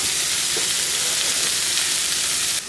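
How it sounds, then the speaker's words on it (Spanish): Onion and chile frying in a pan for potato and chorizo burritos, a loud, steady, close sizzle that runs without a break and drops off abruptly at the end. "Mientras la cebolla y el chile se están cocinando"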